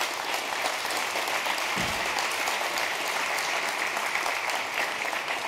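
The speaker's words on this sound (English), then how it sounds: "So please, let's give them a round of applause." Audience applause for the jury at a blockchain incubator demo day, steady clapping from a crowd held at an even level throughout, with no talk over it.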